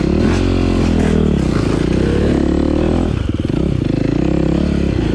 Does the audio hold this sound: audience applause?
no